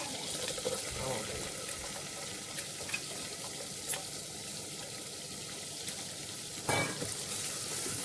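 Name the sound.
shallot sauteing in butter in a pan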